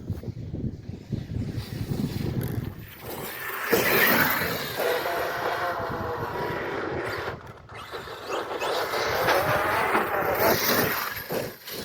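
An Arrma Outcast 8S EXB 5th-scale RC monster truck tears across wet grass, its motor whining loud and close with surging, uneven bursts and rough rumbling as it drives, no voices over it.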